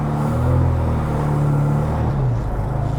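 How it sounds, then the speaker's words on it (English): Idling Mini Cooper with a 1275cc engine being shifted into reverse, a low steady engine rumble close by with no talk. "I lifted up on this collar to put it in reverse."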